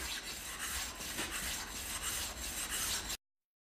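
A Japanese water stone is rubbed flat against another stone, giving a steady, close gritty scraping in quick repeated strokes for about three seconds before it stops.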